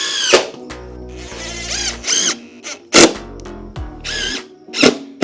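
An impact driver sinks 1-inch screws into wood in short, loud bursts of whirring and hammering, separated by sharp knocks and brief pauses.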